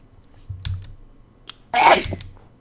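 A single sharp sneeze bursts out near the end after a few soft clicks and taps, close and loud against a quiet background.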